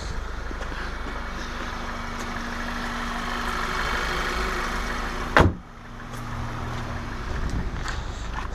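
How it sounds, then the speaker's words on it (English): The hood of a 2011 VW GTI with a DSG gearbox slams shut once, a sharp loud thud midway, while the engine idles steadily before and after. "I'm just gonna close the hood."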